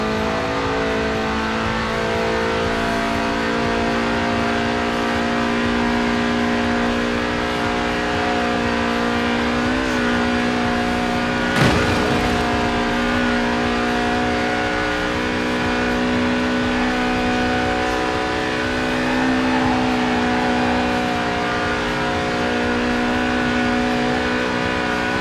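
Lotus Sport 190 with a 1.8-litre engine that revs to 8,000 RPM, racing in Forza Horizon 4, its steady high-pitched engine note held loud and close for a long stretch, with a short sharp burst partway through.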